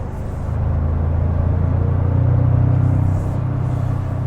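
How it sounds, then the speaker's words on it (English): A 2024 Toyota Tacoma TRD Pro's four-cylinder engine rumbles while driving, a deep, throaty, steady drone that swells for a few seconds and then eases slightly. "So throaty, and that bass does not sound like a 4-cylinder at all."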